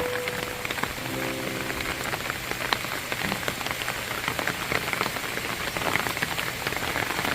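Steady rain pours over a garden at a café, a dense, even patter of drops hitting surfaces close by with no voices, continuous throughout.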